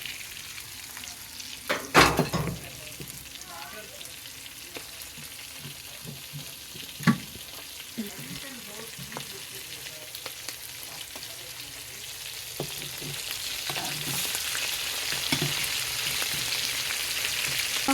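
Prawns with Malabar spinach frying in a pan for a lunch curry, a steady soft sizzle with a few louder clatters of stirring near the start and the frying growing brighter and louder toward the end.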